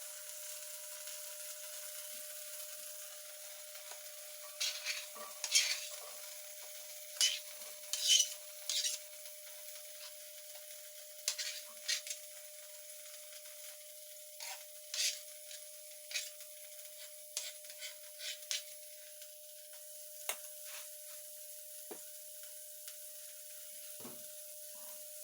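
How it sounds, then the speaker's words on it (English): Ginger roots stir-fry in a pan for a Cambodian beef and ginger dish, a quiet sizzle under a steady hum, broken by repeated scraping and clattering of a utensil against the pan. "Now we're going to start cooking the ginger roots."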